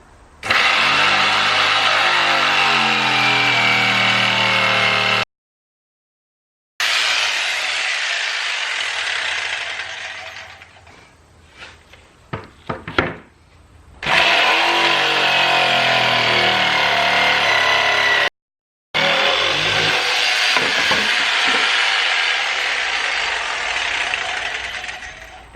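Jigsaw cutting wood on plastic sawhorses for a desk build, a loud continuous buzzing rasp in long runs broken by short pauses and rattling as the blade is repositioned.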